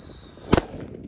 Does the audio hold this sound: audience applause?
no